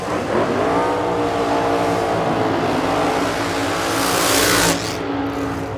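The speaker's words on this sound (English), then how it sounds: "We got Stevie Fast Jackson in lane number 2" Pro Modified drag race cars at ZMAX Dragway roar loudly in a continuous, high-intensity engine blast, rising in pitch before cutting off abruptly near the end.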